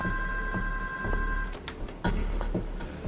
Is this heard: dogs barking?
no